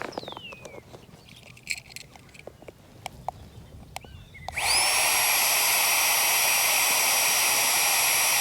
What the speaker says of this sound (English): this little pump is excellent. It makes very, very short work of topping up your self-inflating mats